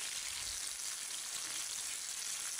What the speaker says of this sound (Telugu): పచ్చిశనగపప్పు, సాయమినపప్పు వేసుకుని పప్పు బాగా వేగే వరకు అంటే ఒక 2-3 నిమిషాల పాటు వేయించుకోవాలి.